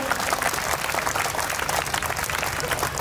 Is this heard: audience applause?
yes